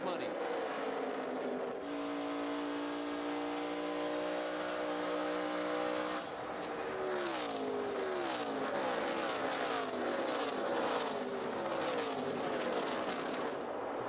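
NASCAR Nationwide race cars roar around the Indianapolis track during the 2012 Indiana 250, a steady sustained engine drone that shifts pitch as cars pass, with commentary running underneath.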